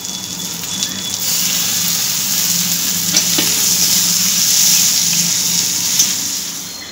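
Chopped tomatoes and four green chilies frying with lightly fried onions in a pan: a steady, loud sizzle runs throughout, with a few scraping stirs and clinks near the start and middle.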